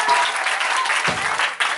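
A church congregation claps in steady, dense applause, a continuous wash of many hands heard from within the crowd.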